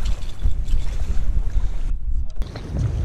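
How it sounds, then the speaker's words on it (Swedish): Strong, gusting wind roars and buffets the microphone continuously, with a brief lull near the end before the rush resumes. "Det blåser storm."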